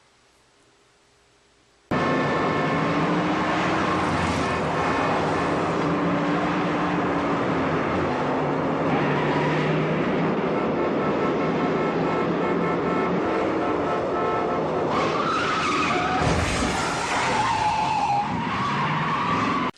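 A car chase from The French Connection, with a roaring engine and tyres skidding and squealing continuously and loudly after a brief quiet opening, swelling into a harsher burst near the end.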